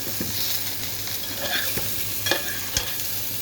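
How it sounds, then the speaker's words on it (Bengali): Young jackfruit pieces fry in a pan, a steady close sizzle broken by a few scraping stirs of the spatula, with no talking. "অনেকটা ভাজা ভাজা হয়ে গেছে, এখন তুলে ফেলবো।"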